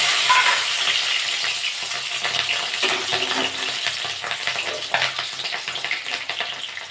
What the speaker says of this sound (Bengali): তেলটা গরম হয়ে গেছে, কাঁচা লঙ্কা দিয়ে দেবো।